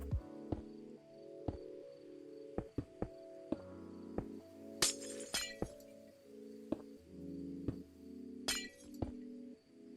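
Glass blocks placed one after another while building a medieval tavern in Minecraft, heard as sharp clinking, shattering taps at a steady rhythm over a continuous background music bed.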